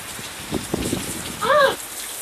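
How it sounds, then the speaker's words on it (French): Heavy rain pours during a thunderstorm, a dense hiss with a few louder thumps near the start and a brief whistling tone partway through. "Je sais pas si vous voyez vraiment quand il pleut"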